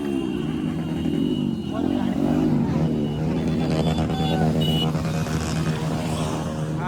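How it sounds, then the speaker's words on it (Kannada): Motor vehicles racing at Ratnapur maidan during a general race event, engines droning loudly and continuously throughout, with a crowd babbling and people talking underneath. "ಜೋರ ಆಯ್ತು ನೋಡ್ರಿ ಗಾಡಿ"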